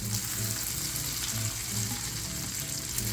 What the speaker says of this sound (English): as you can hear it slowly sizzling down